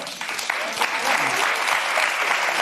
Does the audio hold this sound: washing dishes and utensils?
no